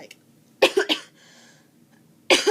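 A person coughs several times in quick bursts, pauses briefly in near silence, then coughs again close to the microphone.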